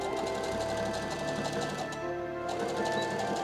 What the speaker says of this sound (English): top stitch them together using a zigzag stitch